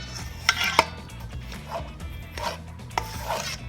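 A spoon scrapes and rubs through a partially frozen rhubarb mixture, giving rough grating strokes in an irregular rhythm with a few sharper scrapes, close and moderately loud.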